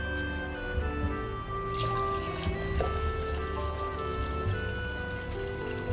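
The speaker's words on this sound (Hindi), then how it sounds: "देखिए थोड़ा सा पानी मैं अभी इसमें और डालूंगी," Water pours steadily into a pot of beef trotters being cooked for paya, a continuous splashing trickle with small drips, close and alone without talk.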